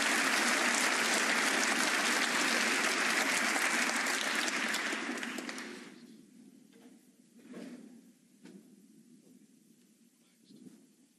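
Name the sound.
applause from snooker audience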